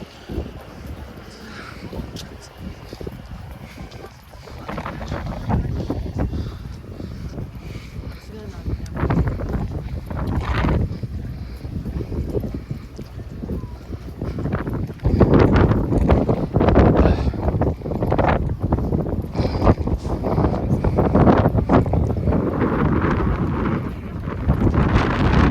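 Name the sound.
strong cold wind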